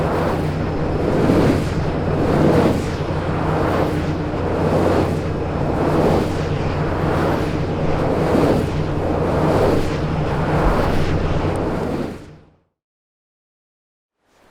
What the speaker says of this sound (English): in a stronger wind like this, the sound of the wind turbine is much more dramatic